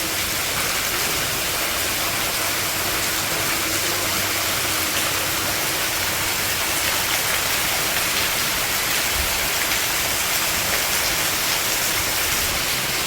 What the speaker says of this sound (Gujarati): ગાજે કરી છે ને પોણી કલાક છે એક ધારો વરહે આવો